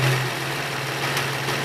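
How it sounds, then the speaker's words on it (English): A 2006 Nissan 350Z engine idles roughly with a misfire caused by a vacuum leak along the intake manifold seam, a loud steady low drone that wavers unevenly, heard close up without talk. "you can hear the engine start to misfire."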